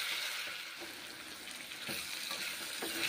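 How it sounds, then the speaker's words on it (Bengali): Pumpkin pieces frying in mustard oil for a vegetarian curry crackle with a soft, steady sizzle, punctuated by a few spatula clacks and scrapes, fairly quiet and without speech. "কুমড়োগুলো ভালো করে ভেজে নিচ্ছি এখন"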